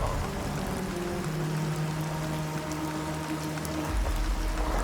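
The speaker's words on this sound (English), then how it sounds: "On Kepler-186f, super cooled rain can fall through the planet's dense, chilly atmosphere." Steady rain hiss with a low watery rush, like supercooled rain falling through the dense, chilly atmosphere of exoplanet Kepler-186f, continuous and fairly loud throughout with no voices.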